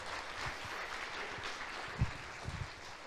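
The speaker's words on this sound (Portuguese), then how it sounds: "aplauda o Senhor mais uma vez" A church congregation claps and applauds, a soft, fairly distant patter of many hands with a few sharper claps standing out near the end.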